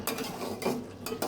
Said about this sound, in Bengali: নেড়ে চেড়ে কষিয়ে নিই ভালো করে মাংসটা